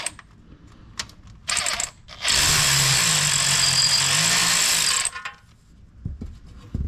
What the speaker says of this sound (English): we're going to go and undo this bolt, and you should see the pan drop as I undo this one